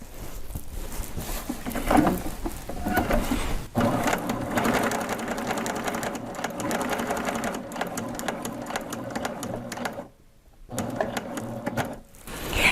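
A Baby Lock sewing machine stitches a quilted reversible placemat with a steady, loud mechanical whir that drops out briefly for a short pause before starting again.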